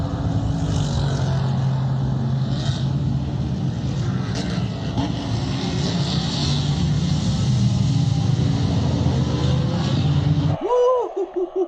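Die-cast 1/64 scale toy cars racing down a drag track, a steady rushing roll of small wheels over the track for about ten seconds, loud and close, ending in a sudden stop.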